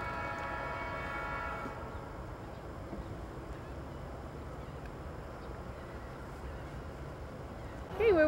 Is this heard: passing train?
yes